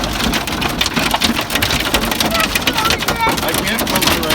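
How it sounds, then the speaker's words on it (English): Hail pelts a house during a storm and blows in through the open back door, a loud, steady, dense roar of impacts lasting throughout, close to the listener. "There's hail coming in."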